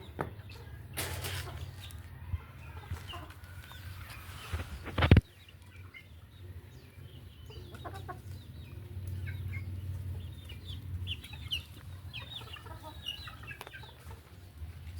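Backyard chickens cluck softly while pecking at feed, with scattered short calls and scratching over a low background hum and a sharp thump partway through.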